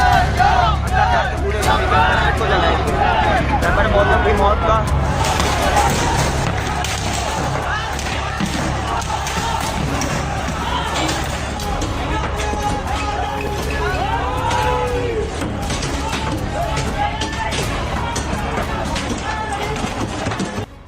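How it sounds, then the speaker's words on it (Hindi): A dense crowd of protesters roars and clamors continuously while breaking the gate of the US consulate in Karachi, loud shouting and babble filling the whole scene, with occasional sharp knocks and clatter in the mix. "कराची में भीड़ अमेरिकी काउंसुलेट के गेट तोड़ रही है।"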